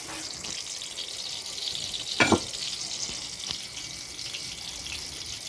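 Chili and garlic sizzle in hot oil in a wok for a Thai stir-fried village chicken dish, a steady bright hiss with a louder crackling burst near the middle as the aromatics hit the pan.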